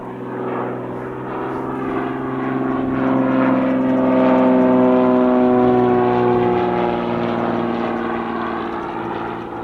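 A general aviation aircraft landing at Spirit of St. Louis Airport, a loud steady propeller drone with droning engine harmonics that swells as it passes near and then eases slightly, with no voices.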